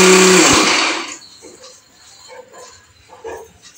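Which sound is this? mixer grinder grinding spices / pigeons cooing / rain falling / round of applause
mixer grinder grinding spices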